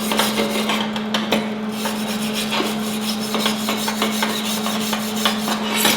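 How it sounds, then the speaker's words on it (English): Stainless steel wire brush scrubbed back and forth over weld tacks on metal, a steady, close scratchy rasping with rhythmic strokes over a constant electrical hum, no talk. "Now we're going to clean off those tacks with our stainless steel wire brush"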